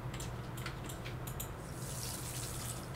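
A large watering can pours onto crops in the farming game Pumpkin Days, giving a steady, close, faint stream of splashing water with no voices.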